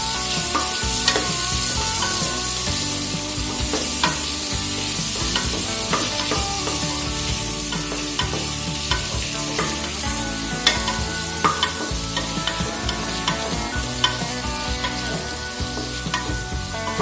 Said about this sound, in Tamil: தக்காளி நல்லா வதக்கும்.